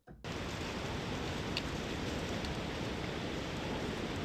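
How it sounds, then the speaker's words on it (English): Steady broadband forest storm rain from the Lunaris ambient synth library, a dense continuous hiss of downpour that starts abruptly and holds at an even level throughout, with no other sounds standing out. "Storm in the Forest."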